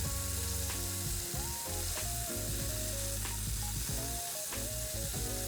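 A burger patty sizzles in a hot pan while pressed down under a weight, a steady frying hiss under loud tonal music with shifting notes.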